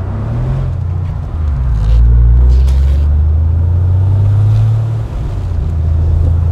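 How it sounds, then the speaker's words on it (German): A 1996 Porsche 993 Carrera 4 Cabriolet with all-wheel drive is heard on the road from close by. A loud, low engine drone swells and holds through the middle, then eases off, over steady road rumble. "jetzt sind wir so unsere 15 Kilometer gefahren mit dem Porsche 993 4. Allrad aus dem Baujahr 1996"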